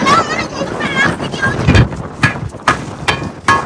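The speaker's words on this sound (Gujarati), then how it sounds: "આવો પવન" Strong, gusty wind on a high hilltop near Junagadh buffets the microphone in rough bursts, with a person talking underneath the roar.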